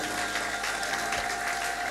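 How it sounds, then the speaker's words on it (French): A church congregation applauds and cheers during a bishop's sermon, a dense, steady wash of clapping with scattered shouts of joy filling the whole moment, loud and continuous throughout. "Donnez un grand amen avec des acclamations,"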